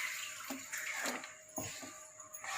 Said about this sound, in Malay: Kalau tak cukup air, kita boleh tambah sedikit air panas.